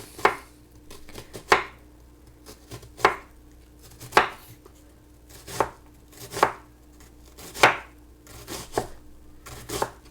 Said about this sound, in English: I'm going to need 1/3 cup of just finely chopped onion